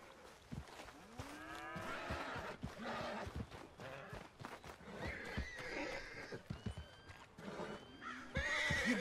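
Horse whinnies and neighs repeatedly in the Red Dead Redemption 2 video game, mixed with hoof clip-clops and other ambient livestock sounds, fairly close and prominent throughout.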